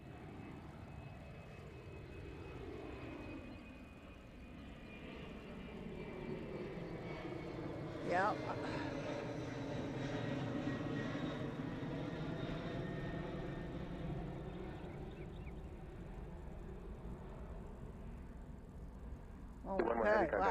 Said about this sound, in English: I think it's a military plane.